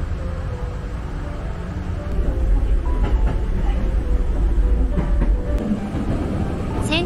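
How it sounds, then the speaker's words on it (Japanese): A Nose Electric Railway train departs Yamashita station, its motor hum and wheel rumble building steadily with faint rail clicks and squeals, heard loud and close throughout. "この電車も出発なのだ。"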